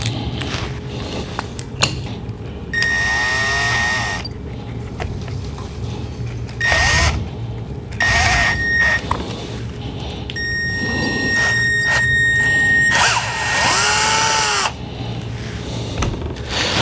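A power drill bores a hole through a homemade blow-by testing adapter near the gasket, with several loud whining bursts of varying length close by, broken by pauses filled with handling clatter and a steady background hum.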